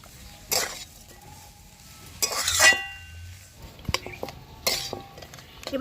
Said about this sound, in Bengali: এবার সব কিছু আরেকবার মিশিয়ে নেব।